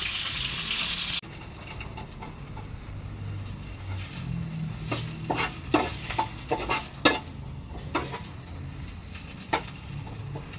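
Food sizzles steadily in a pan while a utensil scrapes and clinks against it at irregular moments.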